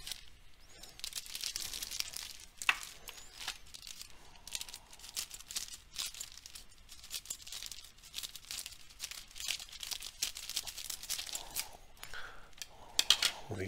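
Close crinkling and crunching of plastic packaging on a Marvel and DC comics five-pack as scissors snip and tear it open, continuous and busy, no talking.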